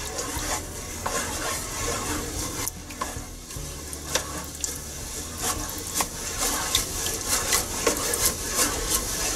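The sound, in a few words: stirring rice and corn in a pan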